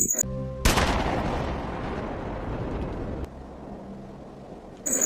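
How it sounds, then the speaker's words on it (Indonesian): A sharp, loud gunshot in a dramatic film scene as a man shoots his own father at the edge of a cliff, a dense burst followed by a long rumbling decay, then a brief quieter tail. "Ternyata Light yang menembak ayahnya sendiri."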